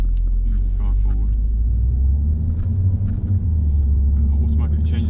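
A car with a dual clutch automated gearbox pulls away from a stop, its engine a steady low rumble from inside the cabin while a person talks over it.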